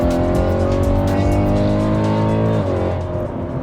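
A straight-piped BMW E92 M3 with full headers-back valved exhaust revving hard, a loud raw harmonic roar held high before dropping off near the end.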